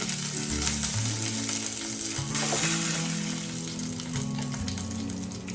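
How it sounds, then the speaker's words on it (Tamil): Peanuts, curry leaves and dried red chillies fry in hot oil with a loud, continuous crackling sizzle, close up, over a low tonal layer underneath. "வேர்க்கடலை நல்லா பொரிஞ்சிருச்சு. இதோட கருவேப்பிலை ஆட் பண்ணிக்கலாம்."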